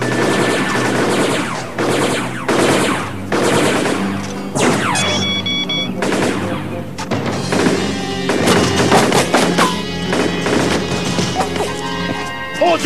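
Sustained gunfire with live ammunition during a battle scene, loud rapid bursts and crashing impacts packed densely for several seconds, with shouting voices mixed in.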